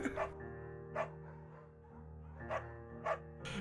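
A beagle barks repeatedly in the video game Firewatch, five short sharp barks spaced irregularly over a faint steady background hum, fairly close and clear.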